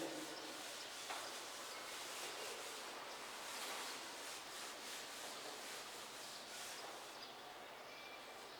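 Steady, faint rubbing as writing is erased from a board during a Class 10 maths lesson on GST calculations, a continuous soft scrubbing that lasts throughout with no talk.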